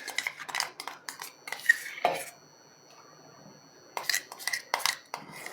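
A spoon stirs blended carrot into thickly boiled milk in a metal pot, giving a run of clinking scrapes, a brief pause, then more quick stirring taps, close and clear with no talk.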